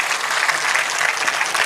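An audience at a devotional Devi Bhagwat Katha gathering breaks into welcoming applause, a dense, steady burst of many hands clapping close and loud, with no talk over it.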